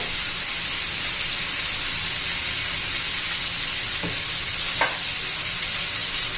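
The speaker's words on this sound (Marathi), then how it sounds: "म्हणून पहिले ते आपण तेलामध्ये परतून घेऊ." Raw banana pieces sauté in hot oil in a pan, giving a steady, hissing sizzle with a couple of short scraping stirs near the end and no talking.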